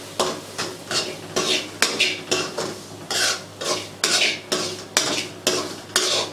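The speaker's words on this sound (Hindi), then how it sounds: "अब इसमें सूजी डाल देंगे इसमें, और अब हम इसको भूनेंगे।" A spoon stirs semolina roasting in hot ghee for sweet milk halwa, scraping the pan in a steady rhythm of about ten strokes, close and fairly loud, with no talking.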